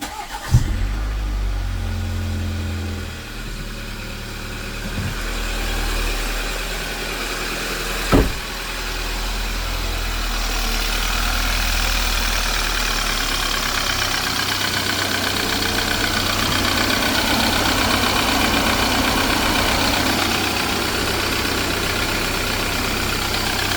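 An ex-police BMW engine cold-starts with a brief crank and catch, then settles into a steady, fairly quiet idle that runs on close by for about twenty seconds.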